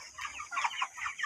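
Chickens, including small young birds settled in a farm coop, cluck and murmur softly in overlapping bursts, a close, continuous chatter of fowl with no voices.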